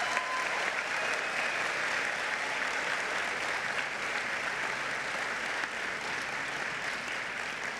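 Sustained audience applause at an Anne Arundel College commencement ceremony, a dense, even wash of clapping from a large crowd that holds steady for the whole stretch with no voices over it.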